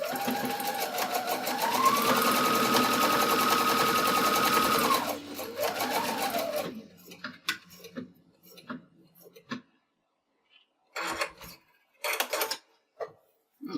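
A sewing machine stitches a seam on a dog collar bandanna, running steadily and loudly for about five seconds before stopping, followed by scattered handling clatter and short intermittent bursts of movement.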